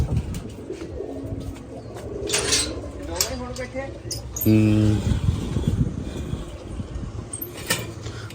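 Pigeons coo in soft, repeated throaty calls nearby, while people talk and something metallic clinks in the background.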